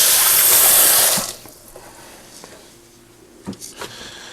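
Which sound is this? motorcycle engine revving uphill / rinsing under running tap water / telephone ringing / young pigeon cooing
rinsing under running tap water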